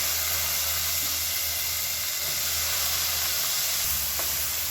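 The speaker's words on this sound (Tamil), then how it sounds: "இதையும் சேர்த்து நல்லா வதக்கி விட்டுக்கலாம்." Green peas stirred into a hot pan with ginger and green chili, giving a steady close sizzle and hiss throughout with faint stirring scrapes and no talk.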